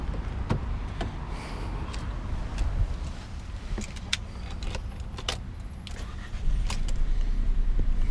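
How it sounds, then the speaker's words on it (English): Skoda Rapid 1.0 TSI petrol engine idling quietly, a low, soft hum under jangling keys and sharp clicks and taps from the cabin, with the rumble swelling slightly near the end. "because this is a petrol motor, it is quite silent as of now"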